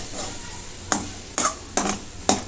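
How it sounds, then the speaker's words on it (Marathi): Thickening chickpea-flour pithla is stirred in a pan, with four sharp scraping strokes at an even rhythm over a faint background sizzle. "असं फडफडीत होतं असा आर्क हलवत राहायचं"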